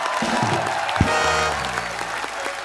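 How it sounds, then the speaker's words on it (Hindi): A television studio audience breaks into loud, sustained applause with some cheering, a dense clatter of clapping that holds steady throughout. "जोरदार तालियां हो जाएं"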